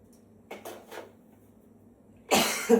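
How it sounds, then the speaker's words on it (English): A couple of faint soft bursts, then a loud single cough right up close near the end. "I'm going to get that cough out in a minute."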